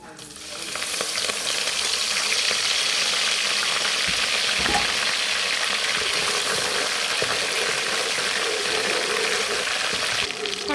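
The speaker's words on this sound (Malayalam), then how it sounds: "കടുവ് പൊട്ടിക്കാൻ പോവാണ്" Mustard seeds pop in hot oil, which sizzles and crackles continuously with dense popping, loud and close, with no voices.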